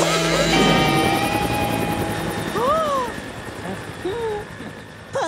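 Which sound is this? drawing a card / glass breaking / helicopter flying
helicopter flying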